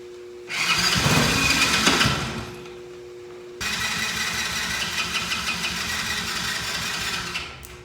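Engine with a clogged carburetor being cranked and started, a rough roaring burst that dies back, then a second catch into a steady uneven running drone, close by with no talking.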